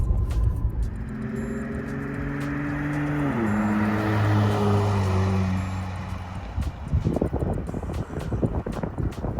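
A Dodge Charger's aftermarket exhaust revs up and down with deep harmonic rumble, rising then dropping in pitch, followed by gusty wind buffeting toward the end; no one speaks.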